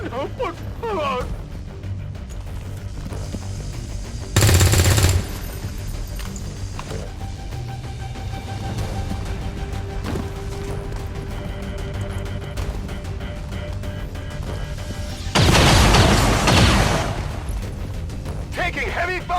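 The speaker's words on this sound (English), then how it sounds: "Taking heavy fire!" Heavy gunfire in the tactical game XCOM: War of the Chosen, two loud bursts of shots spaced well apart over a low ambient game bed, with speech in the background.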